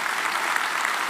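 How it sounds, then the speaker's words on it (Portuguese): A church congregation claps together in a steady, dense burst of applause, even and sustained throughout without a break. "E vamos aplaudi-lo, né, pessoal?"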